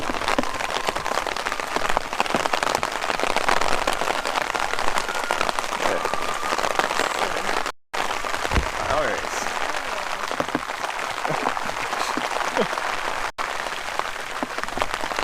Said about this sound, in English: In very heavy rain.